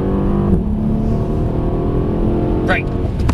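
A Mercedes AMG CLS 63 accelerating hard at full power in a straight line, its engine roaring loud and close from the cabin, with a voice speaking briefly over it.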